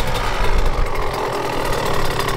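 A new 2023 KTM 65 SX dirt bike engine runs close and loud, with a steady buzzing drone and small throttle blips throughout.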